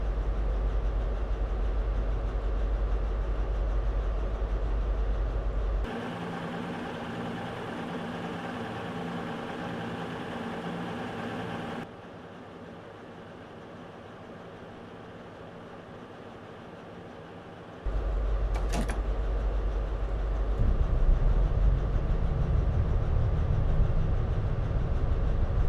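Train Simulator 2017 locomotive pulling away from Taunton station on the Bristol to Plymouth line, a steady engine drone and rumble that shifts through distinct sections, with a brief sharp hiss or clank near the end.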